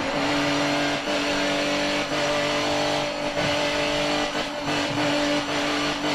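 A race car engine revs and drones continuously in the Forza driving game, played on a Simagic M10 wheel, with sustained high-pitched engine tones and faint tire noise, loud and constant throughout with no talking.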